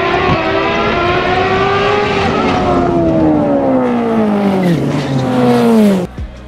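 A front-wheel-drive VW race car screams at full throttle close by, its engine note rising and falling through gear changes for about six seconds before cutting off abruptly.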